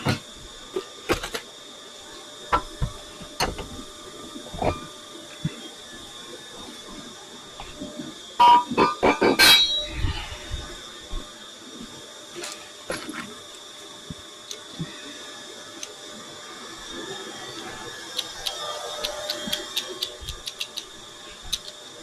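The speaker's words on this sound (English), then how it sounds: "I should find a way to make that stupid motor quieter." A lathe motor runs with a cutoff wheel in a home workshop, giving a steady whine with scattered clicks and knocks. A denser cluster of clattering comes partway through.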